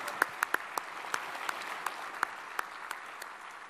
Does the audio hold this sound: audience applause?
yes